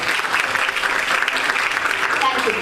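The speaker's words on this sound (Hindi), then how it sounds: "A big round of applause, not for me, for all you guys sitting here" Audience applause at a live charity walk event in Juhu, Mumbai: a dense, steady wash of many hands clapping, loud and close, continuing for a few seconds without letup.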